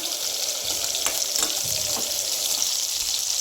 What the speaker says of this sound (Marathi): ते आपल्याला चांगलं असं परतून घ्यायचं आहे.